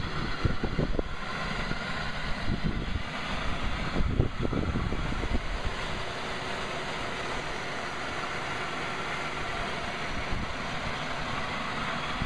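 An Oldsmobile LSS engine runs steadily after a quick startup, with a fresh oil filter fitted; a broad, constant hum holds throughout, with a few knocks and thumps early on before it settles to an even drone.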